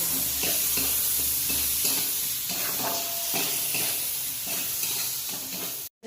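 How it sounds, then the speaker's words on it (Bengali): Prawns frying with a little salt in hot oil, giving a loud, continuous sizzle with rhythmic stirring scrapes close up and no talking, cut short by a brief dropout near the end. "অল্প লবণ চিংড়ি মাছগুলো ভালো করে ভেজে নেব"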